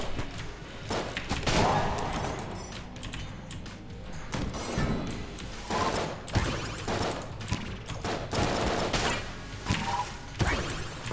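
Dense, continuous video game gunfire from Enter the Gungeon, with rapid shots, thumps and crashing impacts running throughout at a steady, fairly loud level.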